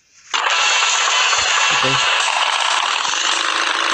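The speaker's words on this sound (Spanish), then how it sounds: "Vamos a intentar con esta motito original." A motorcycle engine in the Extreme Bike Travel 2016 video game kicks in and holds a steady, buzzing drone, with a brief spoken word partway through.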